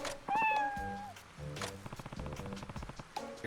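A cat meows loudly in the video game Like A Dragon: Ishin!, one drawn-out call followed by a few shorter chirpy mews, over a game soundtrack with musical tones.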